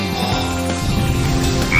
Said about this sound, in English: I hear there are frogs here in the jungle that can summon rain.